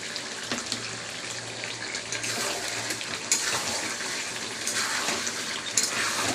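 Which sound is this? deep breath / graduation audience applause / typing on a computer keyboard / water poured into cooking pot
water poured into cooking pot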